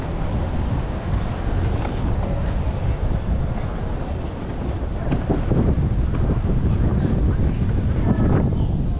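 Cold wind roars outdoors on a city street in Vancouver's Downtown Eastside, loud, continuous buffeting rumble against the microphone throughout, with no voices.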